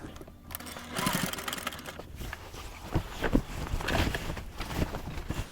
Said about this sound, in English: I'll adjust the quilt so it's comfortable to sew, and then just sew down the next side.